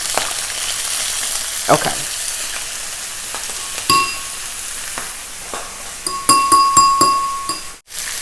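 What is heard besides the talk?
bacon frying in a pan on the stove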